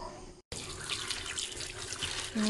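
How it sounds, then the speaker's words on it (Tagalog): Tap water runs and splashes into a sink while taro stalks are washed, a steady close rush after a brief silent gap near the start. "ngayon po ay huhugasan na natin ang ating gabi"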